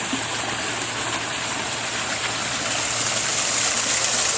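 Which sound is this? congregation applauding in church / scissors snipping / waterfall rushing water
waterfall rushing water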